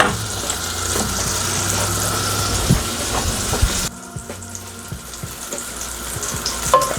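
Butter sizzles steadily in a stovetop pot as the base for a clambake stock, a constant crackling hiss with light stirring scrapes that drops noticeably quieter about halfway through.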